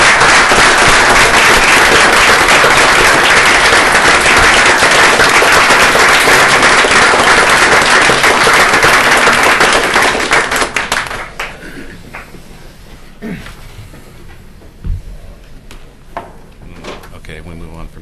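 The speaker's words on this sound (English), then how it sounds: "let's give a round of applause to all those folks who are willing to serve our city" People at a city commission meeting give a loud burst of applause that holds for about ten seconds, then fades to scattered claps and room noise.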